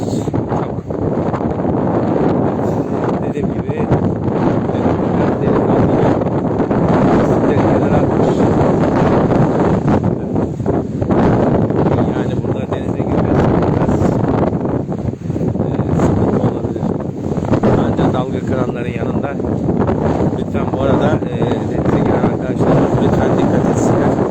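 Steady roaring wind buffets the microphone, with a broad wash of surf and waves beneath on the beach at Ayancık, constant and loud throughout.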